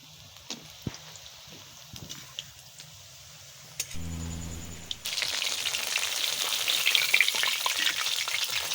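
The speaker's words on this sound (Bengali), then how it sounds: "এবারে ভালো করে উল্টে পাল্টে সুন্দরভাবে ভেজে নিতে হবে" Green chilli rolls fry in hot oil; a soft, quiet sizzle with a few utensil clicks builds into a louder, dense crackle partway through as the rolls are turned, then carries on steadily to the end.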